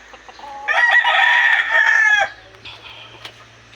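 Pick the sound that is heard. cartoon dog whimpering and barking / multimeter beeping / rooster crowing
rooster crowing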